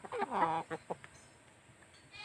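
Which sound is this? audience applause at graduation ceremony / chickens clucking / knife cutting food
chickens clucking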